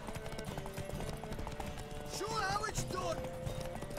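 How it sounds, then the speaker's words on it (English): Rapid hoofbeats of horses racing in The Witcher 3 game, a steady galloping clatter running throughout with a voice speaking over it. "Can't believe we're horse racing right now."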